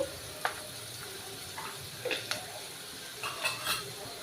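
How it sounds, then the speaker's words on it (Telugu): A spoon stirs and fries bitter gourd curry in a pan, giving scattered light scrapes and clinks over a faint steady sizzle, close and fairly quiet. "ఇది శుభ్రంగా కలుపుకోవాలి. ఒక నిమిషం పాటు ఇలా వేయించుకొని"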